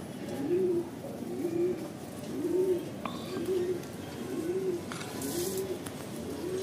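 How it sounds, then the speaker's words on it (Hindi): Pigeons in a loft give soft, rounded coos in a steady rhythm of about one per second, close and moderately loud, with faint rustling behind. "और दोस्तों, हमारे सारे कबूतर ये रहे"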